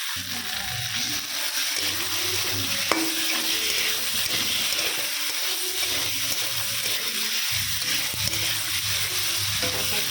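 Spices and pointed gourd fry in a pan without water, a constant loud sizzle broken by scraping stirs and a sharp clack of the utensil, heard up close with no voices.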